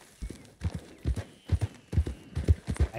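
A horse's hooves clip-clop at a steady walking pace in the Western video game Red Dead Online, about a dozen close, muffled thuds in an even rhythm with no talking.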